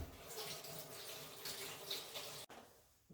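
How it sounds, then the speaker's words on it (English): Water from a kitchen faucet runs steadily as hands are rinsed beneath it, a close, continuous splashing hiss that cuts off abruptly near the end. "I'm going to rinse my hands off really quick."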